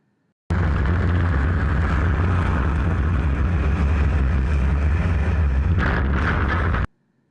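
A Falcon 9 first-stage booster crashes onto an ocean landing barge, giving a loud, sustained roaring rumble with a brief burst of noise near the end before it cuts off abruptly.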